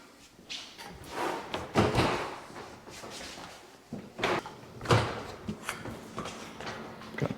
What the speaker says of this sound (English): what I'm going to do is actually open the door of the dishwasher